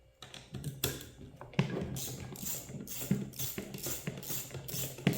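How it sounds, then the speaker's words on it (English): A hex key on an extension loosening a bolt in a .223 Wylde rifle build, producing a series of close ratcheting clicks and metallic taps in an irregular rhythm, fairly quiet with no talking. "we're going to go ahead and loosen this bolt in here."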